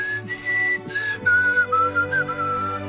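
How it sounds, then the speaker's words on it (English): A person whistles alone, a clear, close, wavering melody of held notes, bright and fairly loud with short gaps between phrases. "Oh, that really hurt my ears, the whistling."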